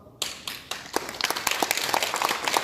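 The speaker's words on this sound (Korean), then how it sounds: "이기론 후보자님에 대해서 다 박수를 치셨으니까요" Clapping at a local council candidates' debate starts abruptly after a silent moment and builds from a few sharp claps into steady, moderately sized audience applause with crisp individual hand slaps.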